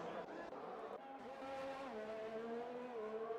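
Race car spinning out on the Paul Ricard circuit in a racing video game, with whining engine tones sliding in pitch and tire squeal over steady game audio and commentary.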